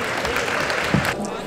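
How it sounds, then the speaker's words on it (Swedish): Warm applause from an audience at a Linköping University welcome event as the rector comes onto the stage, steady clapping with some voices mixed in and a sharp thump near the end. "En varm applåd!"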